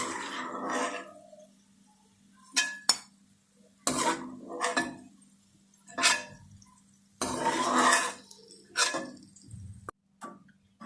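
Golden brown fried onions for chicken nihari are lifted out of the pan onto a plate: a series of close, sharp metal clinks and scrapes of a spoon against cookware, coming in short bursts with quiet gaps between, and no talking.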